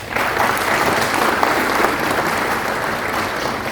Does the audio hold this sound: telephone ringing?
no